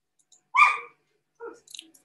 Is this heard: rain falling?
no